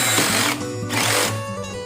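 A Doliz BD637 cordless brushless drill driver drives a screw straight into wood without a pilot hole, a steady close whirring motor with two short pauses as the screw bites in.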